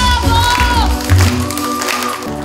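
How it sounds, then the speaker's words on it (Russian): A theatre audience at the Victory Museum on Poklonnaya Hill in Moscow gives a steady ovation, a dense wash of applause and crowd noise that carries on throughout, with music sounding under it. "Стихает шум оваций"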